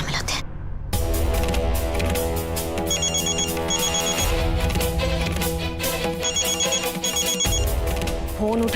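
A telephone rings in a scene from a Hindi TV romantic drama, a repeating electronic ring pattern coming in regular bursts over background music.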